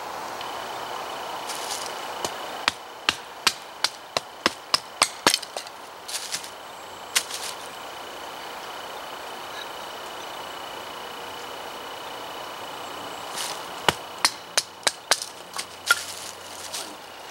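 An axe chops wood against a wooden anvil outdoors, a series of sharp, crisp strikes in quick irregular bursts with quiet pauses between groups.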